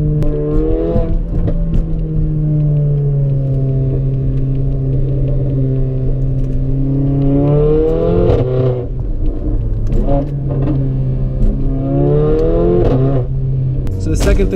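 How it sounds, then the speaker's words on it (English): A 2018 Mercedes GLA 45 AMG with a downpipe and resonator-delete exhaust hums at a deep, throaty idle, then is revved sharply twice, each rev rising and falling back, loud and close. "I do have a resonator delete, so it does sound louder, it does sound a little throatier, if you will, but man, it just sounds amazing"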